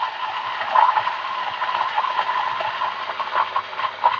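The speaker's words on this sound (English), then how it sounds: "Initially, the grinder will struggle a little bit, but then it will continue to grind without any issue" A DF64V/G64 single-dose variable-RPM coffee grinder grinds coffee beans with a steady, loud whirring hiss that holds level throughout, with small rises in pitch and strain as the burrs work through the beans.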